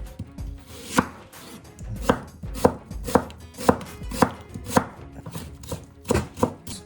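Knife finely slicing an onion on a cutting board, about a dozen crisp, evenly spaced chops heard up close with no one talking.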